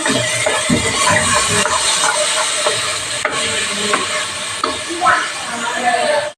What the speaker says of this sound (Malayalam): ഇത് നമുക്കൊന്ന് വഴറ്റി കൊടുക്കണേ